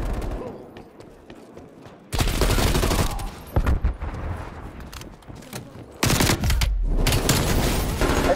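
Automatic weapons fire in two loud sustained bursts of rapid gunfire in Call of Duty Black Ops Cold War, with quieter game chatter and talk between the bursts.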